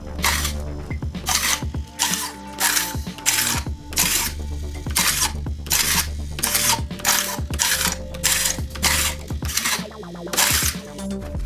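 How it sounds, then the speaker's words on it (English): Arduino-controlled, servo-driven blast gates on a workshop dust collection system, giving a steady series of quick mechanical whirring and clicking bursts, about a dozen short servo movements in a row, close and fairly loud with no talk. "Now the servo activates the gate."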